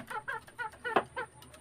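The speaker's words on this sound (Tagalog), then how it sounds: "yun na rin si Marvin, yung manok." A chicken near a house kitchen gives a short run of rhythmic clucks, five or six soft, evenly spaced pulses, fairly close but quiet.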